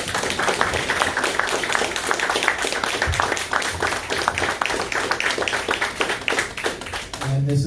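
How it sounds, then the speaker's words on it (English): A live audience at a podcast taping claps in a steady, moderately loud round of applause, with a voice speaking briefly at the very end. "Give yourself a round of applause"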